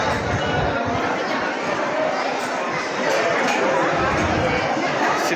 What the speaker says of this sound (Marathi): गर्दीच गर्दी आहे आज.